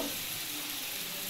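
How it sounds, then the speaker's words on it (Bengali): Carrots and other vegetables frying in hot oil for a lentil dish, giving a steady, close, continuous sizzle with no talking. "এদিকে আমি এই গাজর আর এটা ভেজে ফেলছি"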